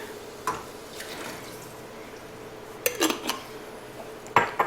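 A glass jar of simmer sauce with a cup of water added, shaken in a home kitchen, gives a few short clinks and sloshes at separate moments against a steady low room hum.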